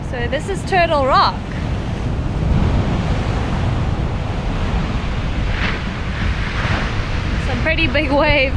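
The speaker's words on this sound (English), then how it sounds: "Some pretty big waves." Big ocean waves surge and break continuously at Turtle Rock, a broad steady roar of surf with wind buffeting the microphone, while people talk briefly at the start and end.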